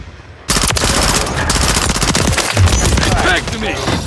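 Call of Duty: Modern Warfare 3 multiplayer firefight: rapid, loud automatic gunfire bursts in fast rhythm after a quiet start, with soldiers' voices under the shooting.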